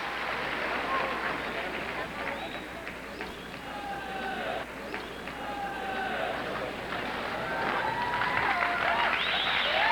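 A large gala crowd at the Sport Hall in Prague applauds and cheers figure skaters after an exhibition, a steady dense roar of clapping throughout with a commentator talking over it.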